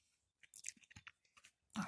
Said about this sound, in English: Chewing.